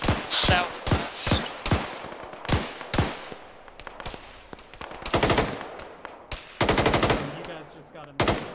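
Machine gun fire in an Arma video game firefight, loud bursts and single shots cracking at uneven intervals, some near and some more distant, with a voice speaking briefly among the shots.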